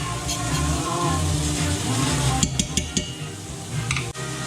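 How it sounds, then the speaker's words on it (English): A pan of pheasant giblets frying while a utensil scrapes across the bottom: a steady sizzle first, then a run of sharp metal scrapes and clinks near the end, close and fairly loud. "Scraping the bottom of the pan there"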